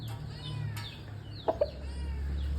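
A fighting rooster clucks twice in quick succession, short and fairly close, over a faint low background hum on a cockfighting farm.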